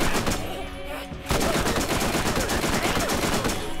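Rapid gunfire from shooting enemies in Borderlands, a dense run of loud overlapping shots that briefly dips then resumes heavier and continuous, with game effects mixed in.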